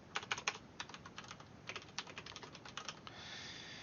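Quick bursts of clicking on a computer keyboard as a username is entered, close and fairly quiet, in uneven runs of keystrokes that end in a soft steady hiss.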